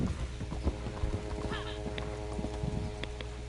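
Horse hooves clip-clop in the Red Dead Redemption online game on PlayStation 4, a quick irregular run of close, moderately quiet hoofbeats over a low background hum.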